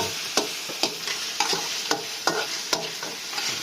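Beef with oyster sauce stir-fries in a hot wok, a steady sizzle broken by sharp, regular scrapes and clanks of the spatula stirring about every half second.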